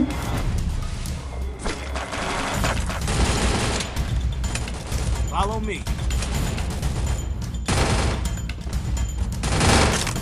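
Gunfire rattles in a shooting video game, with dense, continuous bursts and booms filling the scene. A voice talks over the shots.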